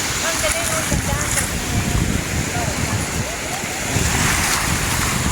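Ocean surf washes steadily onto a pebble beach at high tide in Lobo, Batangas, a continuous rushing hiss mixed with wind buffeting the microphone, with a voice faintly present.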